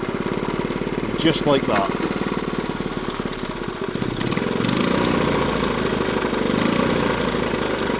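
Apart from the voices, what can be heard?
motorcycle engine kick-started and idling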